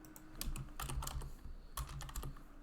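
Close, steady typing on a computer keyboard during a programming session, with quick bursts of clicking keystrokes separated by brief pauses and no one talking.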